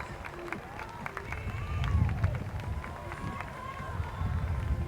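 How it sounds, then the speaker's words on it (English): Outdoor crowd clapping at an Armed Forces Day parade as young women march past, a steady moderate patter of applause mixed with crowd noise and scattered voices. "A great big round of applause for these outstanding young ladies passing before you right now."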